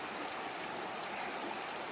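A forest river flows past in a steady, soft rushing wash, faint and even throughout with no voices.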